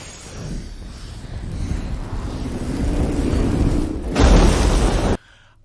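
Designed explosion effect: a low rumbling build-up swells steadily, then a loud full-band boom bursts near the end and cuts off abruptly into near silence.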